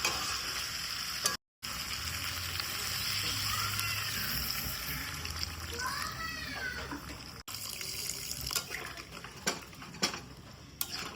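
Water goes into a pan of chicken kosha that has been slowly browned, setting off a loud, steady sizzle and bubbling, with a brief dropout and then clinks and knocks of a utensil on the pot.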